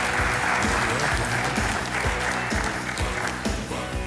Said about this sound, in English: How about a big round of applause for these gentlemen, Kent Lyons and Matt Clark.